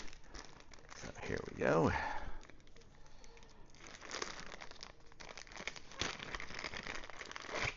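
Crinkly plastic packaging of a metal self-adhesive measuring tape is handled and torn open in bursts of crumpling and rustling, close by, while someone talks over parts of it.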